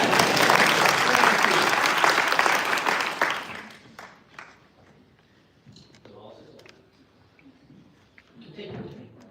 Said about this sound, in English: Do an applause while I'm organizing this.